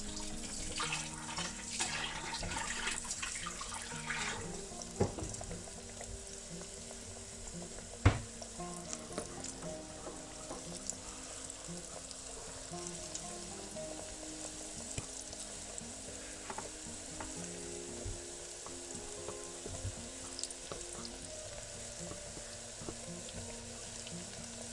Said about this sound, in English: And now we're going to get them into the oil,